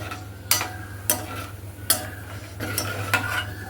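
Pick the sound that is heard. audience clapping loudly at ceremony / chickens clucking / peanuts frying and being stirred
peanuts frying and being stirred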